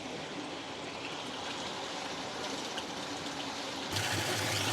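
Irrigation water flows into a farm field with a steady, hissing rush. The flow stays fairly even, then swells louder for the last second or so, with no talking.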